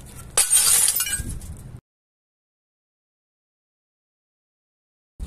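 A stone strikes the glass screen of a TV and it shatters in one loud, close crash with clinking fragments for about a second, then silence.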